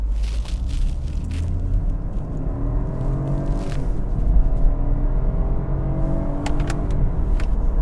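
A BMW 418i F36 Gran Coupé pulls away at full throttle in busy Sunday traffic, its engine droning loud and steady inside the cabin as the pitch climbs through the gears, with no talking.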